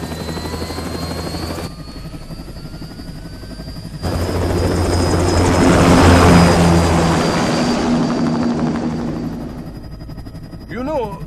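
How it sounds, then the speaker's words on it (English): An aircraft from the game Metal Gear Rising: Revengeance takes off with a loud roaring engine that swells and builds, then slowly fades over several seconds, with a high whine running through it. "Commencing takeoff in semi-auto mode."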